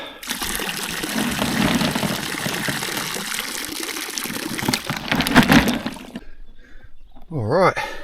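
Clean water gushes into a bin of cockles outdoors, a loud, continuous pouring that splashes for about six seconds before stopping, with brief sounds afterward.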